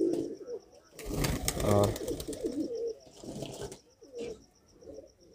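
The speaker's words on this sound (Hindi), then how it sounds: "ये हमारे सभी कबूतर" Pigeons coo softly in low, throaty bursts, joined by a brief flutter of wings and a short spoken word in the middle.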